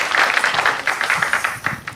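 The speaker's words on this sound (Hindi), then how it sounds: "दोस्तों तालियां बजाते रहिए।" Audience applause at a live Hindi comedy and poetry show, a dense, steady patter of many hands clapping close by for the full two seconds with no voices over it.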